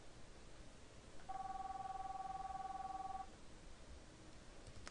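On a telephone line dialing out on an international route, a steady two-note tone sounds for about two seconds over faint background hiss, with no talking.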